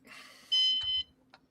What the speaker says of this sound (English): Why is mine beeping?